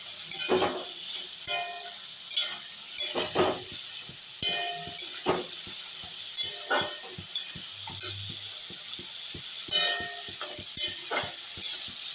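A fish head fries with turmeric and salt in a pan, a faint continuous sizzle broken by repeated scraping stirs and clinks of the utensil, close by, with no talking.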